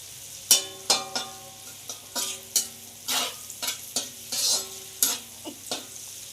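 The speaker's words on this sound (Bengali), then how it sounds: "গাজর ক্যাপসিকাম আমাদের সব ভালো করে ভাজা হয়ে গেছে" Carrot and capsicum sizzle in a pan while being stirred, with a series of sharp scraping stirs at an irregular rhythm over a soft, steady frying hiss, close and fairly quiet.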